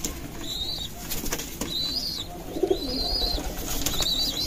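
Racing pigeons (homer/giribaz type) flapping their wings as they take off in a loft area in Rajshahi, repeated bursts of wingbeats with soft cooing and a few high chirps, fairly close.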